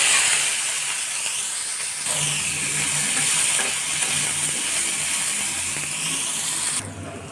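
Garlic, onion and green chili fry in soybean oil with a steady, close sizzle and hiss, with occasional stirring clatter.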